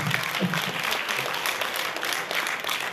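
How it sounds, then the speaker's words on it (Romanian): Audience applause for Maricica Stere at a Pensioners' Day celebration in Mangalia, a steady, dense clapping from a sizable crowd that holds loud and even throughout with no voices over it. "Și aplauze pentru doamna Maricica Stere."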